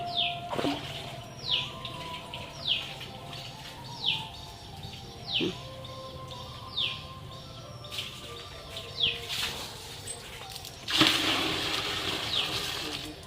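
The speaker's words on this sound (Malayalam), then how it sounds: "ശിജു വെള്ളം കോര്" A bucket hauled up a well on a rope, with a rhythmic squeaking pulley repeating roughly every second, faint bird chirps in the background, and a louder splash and slosh of water near the end.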